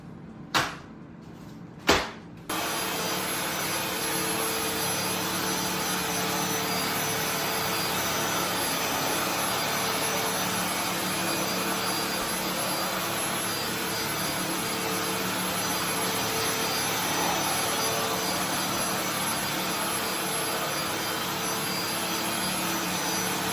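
An ElecKeys K30 cordless vacuum picks up pet hair on a rug, starting after a couple of sharp clicks into a constant loud whining motor drone that stays steady and unbroken for over twenty seconds.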